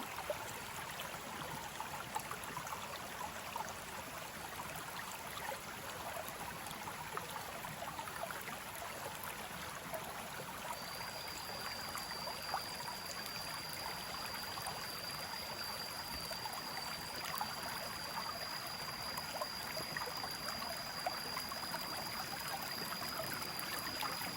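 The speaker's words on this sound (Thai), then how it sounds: "ให้คนนั่งฟังเสียงน้ำไหล" Soft, steady trickle of flowing stream water outdoors, faint and continuous with a faint high tone appearing partway through, no talk.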